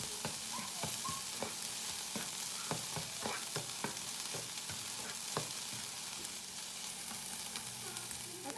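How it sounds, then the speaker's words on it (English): Chopped red onion and peppers sauté in a pan with a constant crackling sizzle, broken by repeated scraping stir strokes at a fairly quick, uneven pace. "I'm going to stir that around until it's slightly browned"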